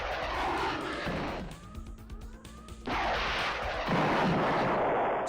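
Missiles fire and explode during space combat in the video game Star Control II (Ur-Quan Masters megamod), a dense, continuous roar of blasts with a brief sweeping tone in the middle before the noise surges again.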